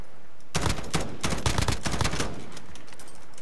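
Gunfire in the Warzone video game: a loud, close burst of rapid automatic shots lasting about two seconds, followed by a fainter trailing crackle, with no voices.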